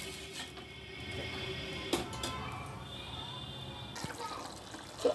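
Water is poured into a simmering pointed gourd and potato gravy, a soft liquid splash and gurgle set against a low kitchen background, with a brief louder splash near the end.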